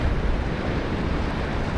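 Ocean waves breaking on a seascape shoreline, a dense, continuous wash of surf mixed with wind rumble, steady and fairly loud throughout.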